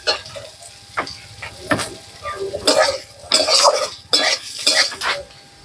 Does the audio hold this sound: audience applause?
no